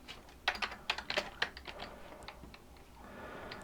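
Rapid clicks of typing on a computer keyboard while coding, a brisk burst of keystrokes close to the mic that thins out into a few scattered taps over a faint steady hum, no talk.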